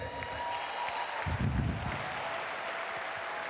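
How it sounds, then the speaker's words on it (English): Applause from the audience at a Phase 1 training event in Rotterdam, a broad steady patter of clapping that swells briefly near the middle and stays moderately distant throughout. "So give yourselves a big round of applause for being here this weekend."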